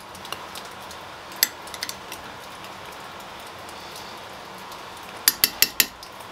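Metal spoon clinking against a pot while cornmeal is stirred into boiling water for Montenegrin kačamak, a few scattered taps early on and a quick run of sharp clinks near the end over a soft steady background.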